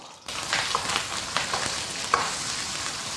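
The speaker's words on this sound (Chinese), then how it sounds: "五花肉炒香，炒出油脂" Pork belly stir-fries in hot oil in a wok with a constant close sizzle, broken by a few sharp spatula scrapes and clicks.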